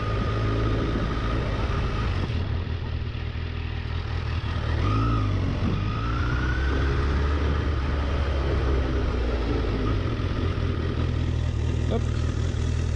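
A Honda CBR1000RR Fireblade motorcycle rides along with a loud, continuous low engine rumble and wind noise, rising slightly in pitch at one point as it gently accelerates, with someone talking over it.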